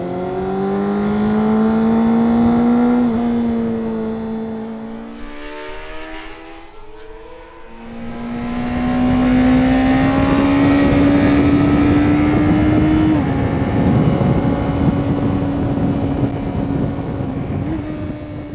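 A Honda CBR600RR sport motorcycle's engine revs hard while riding, a loud, high whine that climbs through the gears, dips briefly as the throttle is closed, then rises and holds at high revs.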